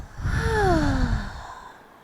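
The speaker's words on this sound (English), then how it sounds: "Taking a full breath in through the nose, audible exhale out the mouth." A single audible breath pushed out through the mouth during a child's pose in a trauma-informed yoga session; a soft, close, voiced sigh with a falling pitch that fades over about two seconds.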